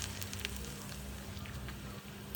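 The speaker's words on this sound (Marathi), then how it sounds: "हे बघा मस्त असे आपले पापड जे आहेत ते भराभर तळले जात आहेत" Rice papads deep-frying in hot oil give off a soft, continuous sizzling hiss, fairly quiet and even throughout, with a low steady hum beneath.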